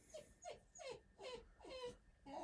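A dog whimpers in a steady series of short, high, whining cries, about five or six in a row, fairly close and soft, with no one talking.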